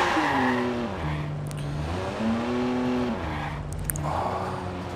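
A Ferrari in the Watch Dogs video game drives into oncoming traffic, its engine revving up and down through gear changes with a loud, close whine and brief impact bangs.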